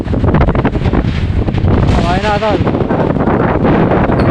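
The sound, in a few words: strong typhoon wind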